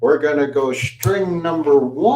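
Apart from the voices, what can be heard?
No everyday noises stand out.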